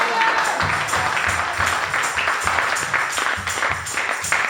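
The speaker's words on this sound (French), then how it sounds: "Wir applaudieren den Herrn." A church congregation claps in a steady, rhythmic beat, the loud repeated claps sounding together at an even pace from start to finish.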